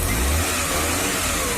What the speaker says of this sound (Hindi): मारुति 800 में स्टार्ट कर लिया हूँ कार